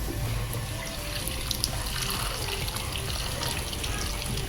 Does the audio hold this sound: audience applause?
no